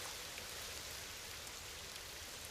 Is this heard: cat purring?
no